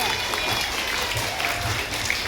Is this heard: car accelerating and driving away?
no